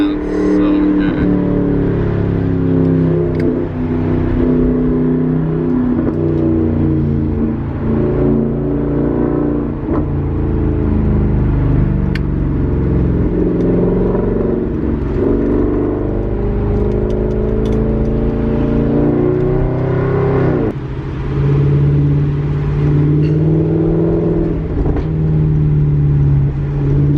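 A Maserati GranTurismo engine drones steadily and close, its pitch rising and falling through revs and gear shifts with a brief dip near the end, continuous under the cabin noise throughout.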